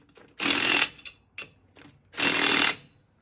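Two loud, close bursts from an impact gun snug down the lug nuts on a 1951 Hudson's wheel, with a couple of short clicks between the bursts and no talking.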